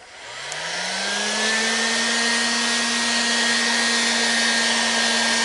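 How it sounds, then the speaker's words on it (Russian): A hair dryer is switched to maximum to heat plastic for straightening, its motor whine rising quickly in pitch as it spins up, then holding a steady, loud, close-up whoosh with a constant tone. "Фен на максимум."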